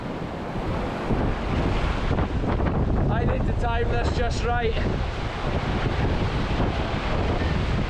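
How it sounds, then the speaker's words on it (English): North Sea surf washes in against the rocks at Elephant Rock on the Scottish coast in rough conditions, a broad roar of breaking water under heavy wind buffeting the microphone, while someone speaks briefly over it. "Look, the waves just coming right in here."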